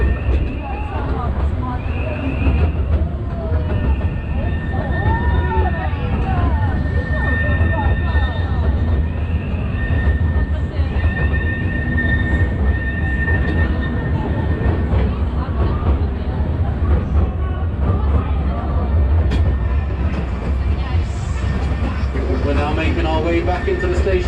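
Legoland Express amusement park train ride at Legoland Windsor at Christmas, a steady loud rumble of the moving train with crowd babble and voices throughout, and squeaky, screechy wheel sounds near the end.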